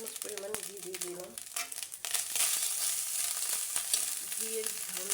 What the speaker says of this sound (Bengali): লাস্টে আমি হাফ চামচ পরিমাণ ঘি দিয়ে দিলাম।